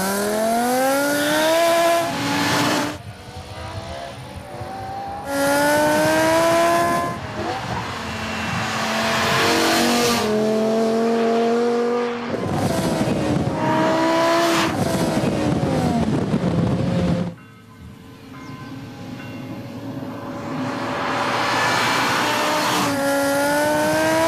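A Hartge H50 BMW 3 Series saloon with the M5's ten-cylinder engine and four tailpipes revs hard in repeated loud bursts, its pitch climbing and falling between short pauses, close by with no talk.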